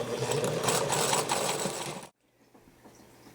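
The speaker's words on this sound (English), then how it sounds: "now we're going to sew all the way to the bottom, keeping your eye over here at the 5/8" A sewing machine stitches a straight seam, a fast mechanical whirring rattle for about two seconds that then stops abruptly, leaving quiet room noise.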